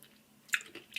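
Juicy pomegranate seeds being chewed close up: a few quiet wet squishes and crunchy bites in a short burst, with no talking.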